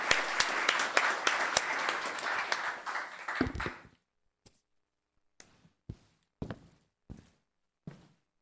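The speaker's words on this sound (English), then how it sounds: "Thank her with another round of applause" Audience applause fills a town council meeting chamber for almost four seconds, then stops, leaving a few scattered knocks and shuffling sounds.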